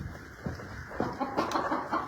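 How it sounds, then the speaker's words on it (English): A chicken on a small farm clucks softly in a few short bursts against steady background noise. "I hear the other chicken."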